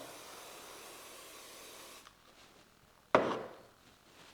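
One brief, gentle hiss of spray puffs onto model railway trees during scenery building, following a stretch of low steady background noise and a quiet pause.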